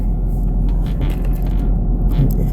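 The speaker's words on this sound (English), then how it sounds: "There's a car coming." A car approaching on a road at night makes a low, steady rumbling road noise that swells slightly, heard from inside a moving vehicle with no talking.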